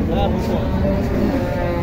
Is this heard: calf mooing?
yes